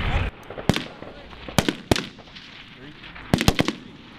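Live-fire military exercise gunfire: sharp single shots and a quick triple burst crack out at irregular intervals over a low background, with people talking nearby.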